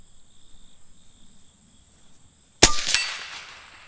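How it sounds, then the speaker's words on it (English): An air rifle pellet strikes a steel target plate in the distance: one sharp metallic clang with a short ringing tail, heard over steady outdoor cricket chirping. "We'll shoot at the steel plates in the back."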